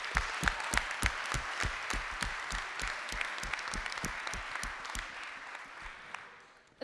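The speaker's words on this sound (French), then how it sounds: "On va les applaudir très fort." An audience gives a round of brisk applause for a group of middle-school students, with individual claps distinct and close, holding steady before thinning out and fading near the end.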